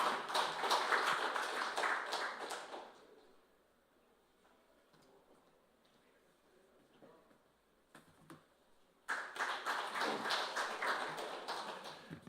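A room at a National Assembly forum launch ceremony in Korea bursts into applause, a dense patter of many hands that fades to a hush, then a second round of clapping swells up.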